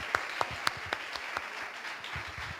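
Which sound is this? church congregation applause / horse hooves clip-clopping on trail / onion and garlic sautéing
church congregation applause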